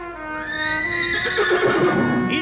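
A horse in its stable gives a loud, close neigh, a long whinny that rises and then breaks into a shaky, quavering call.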